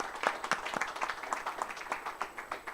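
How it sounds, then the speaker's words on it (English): A small group of attendees claps for a vice president during a press conference after a football executive committee meeting in Ghana, quiet, distinct rhythmic hand claps that sound somewhat distant. "Can we please clap hands for him?"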